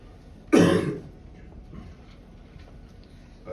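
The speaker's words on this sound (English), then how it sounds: "I apologize for the cough." A single sharp cough close to the microphone during a basketball coach's post-game press conference, followed by a quiet room with faint background noise.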